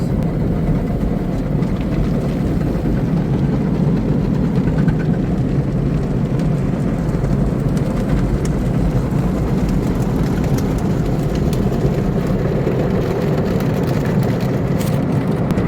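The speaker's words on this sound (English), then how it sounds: "Let's flip this around so y'all can see that I'm really getting a car wash" An automatic car wash runs over a car with the listener seated inside, producing a loud, constant low roar of machinery and spraying water that holds steady throughout.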